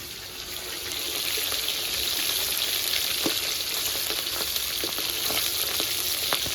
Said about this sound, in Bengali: বন্ধুরা মাছের এক সাইড ভাজা হয়ে গেছে এবার উল্টে দিচ্ছে